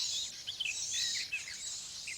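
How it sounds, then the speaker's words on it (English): A male nightingale gives repeated high, sharp alarm calls while driving off an owl near its nest in dense vegetation. The calls come as quick chirps, faint and somewhat distant, over a quiet background. "It's a male nightingale, doing his best to drive the owl away with loud alarm calls"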